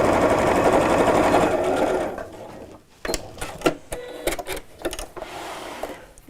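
A sewing machine runs steadily for about two seconds, stitching the corner seams of a quilted fabric tote, then stops, leaving a series of sharp clicks and handling knocks as the fabric is adjusted.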